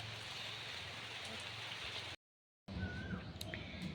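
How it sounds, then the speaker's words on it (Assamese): Steady rain falling outdoors in Assam during the Bohag Bihu season, a continuous close hiss of drops that cuts out briefly and resumes, with faint bird calls over it. "পৰিছে বৰষুণ"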